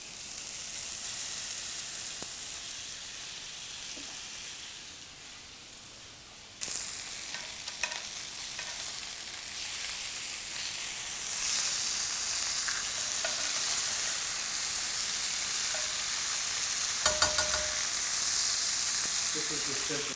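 Two lamb burger patties sizzling on an oiled grill pan, a steady frying hiss that jumps louder as the meat goes down and swells further midway, with light occasional clatter.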